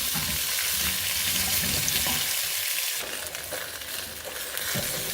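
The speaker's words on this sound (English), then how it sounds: "So we're going to have this cook on the stove and until the onions begin to like soften up and then fall apart." Onions fry in a pot on the stove for Ghana jollof stew, a loud continuous sizzle with occasional scraping and stirring movements, close up and without speech.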